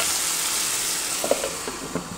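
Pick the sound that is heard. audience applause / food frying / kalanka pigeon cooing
food frying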